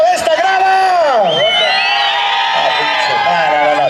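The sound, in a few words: crowd in the stands shouting at a jaripeo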